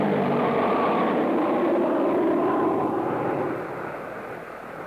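An aircraft on a military aerial observation flight fills the sound with a loud, steady engine drone that eases slightly toward the end, with no voices.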